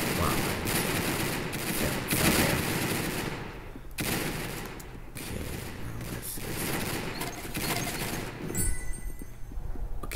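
Rapid gunfire from the Roblox shooter game Arsenal, dense bursts and volleys running continuously for about ten seconds, loud and close with steady battle noise throughout.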